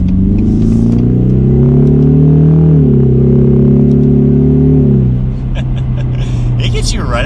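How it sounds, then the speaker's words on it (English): A 2021 Ford Mustang EcoBoost turbo engine accelerates with the exhaust in track mode, a loud rising drone that climbs, dips briefly at a shift, then climbs again before easing off, recorded from inside the car. "we're in track mode exhaust as well. And we'll feel out the way the exhaust sounds and the throttle response"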